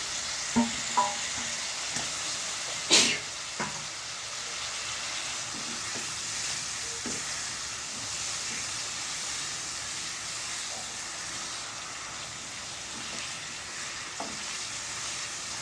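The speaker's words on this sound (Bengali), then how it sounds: "টমেটোকে দিয়ে কষিয়ে নিতে হবে" Tomatoes sizzle and fry in a pan with a rohu fish curry, with cauliflower and potato, while being stirred, giving a steady hiss broken by a few scraping clinks of the spatula.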